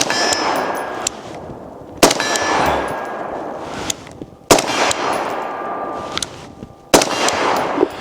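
Suppressed B&T APC 223 rifle shots strike a bladed steel target at 50 yards. Four sharp, evenly spaced cracks each end in a bright metallic clang that rings and fades between hits, loud and close.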